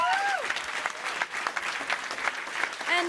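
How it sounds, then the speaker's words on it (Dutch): Audience applause for Sarah at a live Dutch stage event, a dense steady burst of many hands clapping close and loud for about three seconds, with brief speech-like tones at the start and end. "Een hele hard applaus."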